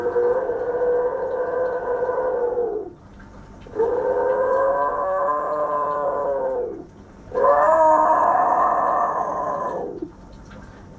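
A voice imitates a dinosaur with three long, loud, growling roars separated by short pauses.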